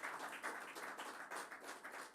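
Audience applauding at a celebration of Calcio Padova's promotion to Serie B, held in a hall: steady, moderately faint clapping from many hands, continuous with slight swells and no voices.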